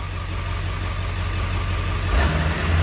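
A Ford Power Stroke diesel in a Super Duty pickup holds a steady high idle, a continuous low rumble with a slight rise in pitch and loudness near the end.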